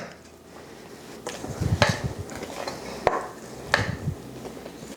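Muffin batter being mixed, wet ingredients stirred into the dry flour mixture, with a spoon or spatula scraping and knocking against the bowl in a few uneven strokes, close by and fairly soft.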